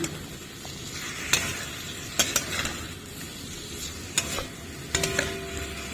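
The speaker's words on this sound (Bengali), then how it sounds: "হলুদ এবার মশলাগুলো ভালো করে কষিয়ে" Spices and turmeric sizzle as they are stirred in a pan for a radish, eggplant and spinach ghonto, with a soft constant frying hiss broken by sharp scraping clicks from the spoon.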